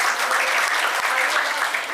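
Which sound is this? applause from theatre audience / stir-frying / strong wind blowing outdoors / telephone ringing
applause from theatre audience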